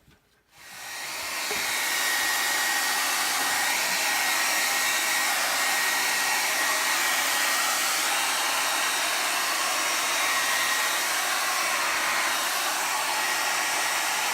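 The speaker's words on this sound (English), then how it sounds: "I'll hit them definitely. with a hairdryer." A hair dryer switches on and blows steadily over acrylic paint, a loud continuous whooshing roar with a faint high whine, no voices.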